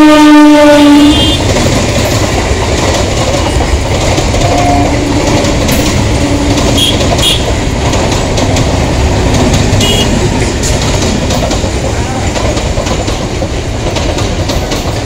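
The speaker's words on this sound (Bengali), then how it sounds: "Down Krishnanagar city Sealdah local Shyamnagar railway স্টেশনে প্রবেশ করলো।" A down Krishnanagar City–Sealdah local train rolls into Shyamnagar station with a loud horn blast at the start, then steady clattering wheels and carriage rumble close by throughout.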